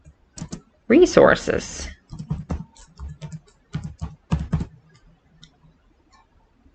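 Keys clatter on a computer keyboard in a burst of quick typing, then scattered clicks, close and clear, with a voice speaking briefly over it.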